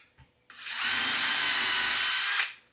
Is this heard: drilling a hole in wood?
yes